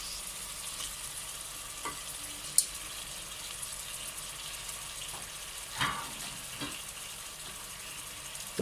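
Pieces of quail fry in a pan with a constant soft sizzle, broken by a few scattered clinks and scrapes as they are stirred and mixed, with no voices.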